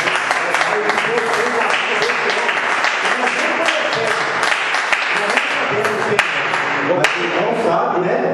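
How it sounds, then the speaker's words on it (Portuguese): A church congregation claps during a sermon, a lively, fairly loud patter of hands lasting several seconds, with voices and exclamations mixed in and a few sharper individual claps standing out. "Que a igreja dê uma salva de palmas."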